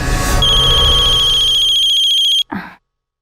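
A telephone ringtone trills in steady repeated pulses for a couple of seconds, then cuts off abruptly, followed by a brief rustle or breath as the call is answered, in an indoor setting.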